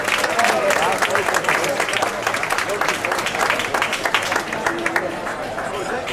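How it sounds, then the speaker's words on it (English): Audience applause and cheering for a ship's captain at an evening welcome event aboard a cruise ship, dense steady clapping from a nearby crowd throughout with voices mixed in. "Let's give him a nice big round of applause"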